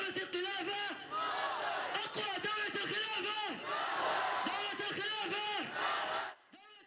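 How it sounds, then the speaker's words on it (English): A large crowd at a nighttime extremist gathering chants in loud, rhythmic call and response, many voices shouting together in repeated bursts before the sound drops away at the end. "A call and response to excite the crowd"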